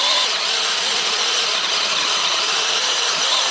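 A cordless LEADER mini chainsaw runs steadily with a continuous high-pitched motor whine throughout, close and loud, with no talking, while cutting fresh green fallen wood.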